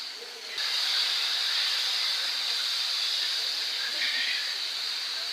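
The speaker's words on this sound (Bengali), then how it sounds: "এখন ভালোভাবে মশলাটা কষাই নিব" Spices sautéed in a pan for mustard hilsa curry, with salt, turmeric and ground coriander-cumin: a steady, fairly loud hiss that swells after a brief quieter start and then holds evenly.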